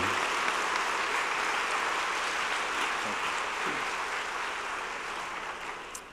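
A university convocation crowd applauds a jazz band, a broad continuous roar of clapping that holds steady and then begins to taper near the end.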